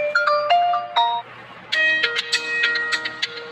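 A phone ringtone plays as the media, ringtone and alarm volume levels are raised, bright electronic tones repeating in short bursts and growing busier and louder partway through.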